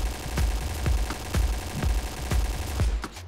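An AUG machine gun fires without macro in the game Point Blank, producing about seven evenly spaced, punchy shots in a steady rhythm over loud, continuous background noise.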